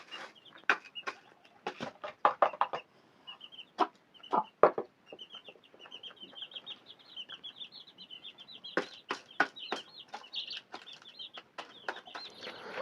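Newly hatched chicks peep in a dark coop, a dense flurry of high, quick chirps that comes in bursts with short pauses, fairly close and clear with no talking.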